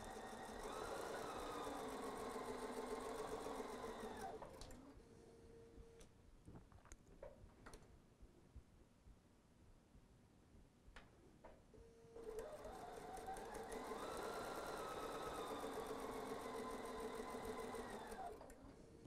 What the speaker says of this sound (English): usually my machine will behave itself and it'll sew right off of it